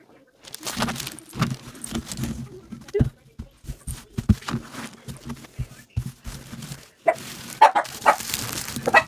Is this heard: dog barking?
yes